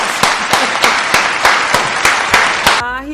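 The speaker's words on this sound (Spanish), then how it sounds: "Démosle la bienvenida con un fuerte aplauso a Lady Noriega, señores." Guests at a talk show welcome a visitor with a run of about nine sharp, evenly spaced claps in a steady rhythm, loud and close, before a brief voiced tone closes the moment.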